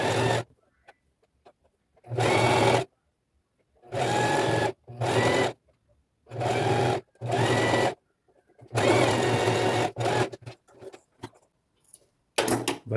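A sewing machine stitches elastic and bias binding onto a fabric knee pad in a series of short, loud, rapid bursts of running stitches, with silent gaps between them as the fabric is adjusted.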